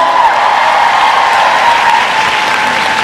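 Loud, continuous applause from a fan meeting audience, steady clapping filling the whole stretch without pause.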